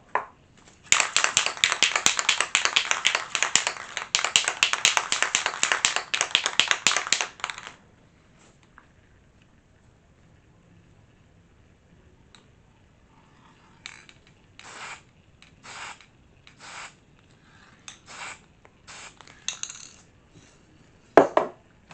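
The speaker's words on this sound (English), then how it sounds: "if this spray paint will act right." A steady hiss of silver spray paint blasting continuously for several seconds, then a series of short, sharp bursts with quiet gaps in between.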